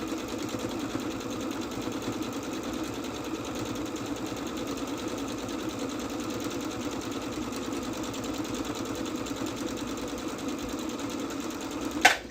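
A sewing machine stitches at a steady, even pace, a quiet continuous whirring chatter with a single sharp click right at the end.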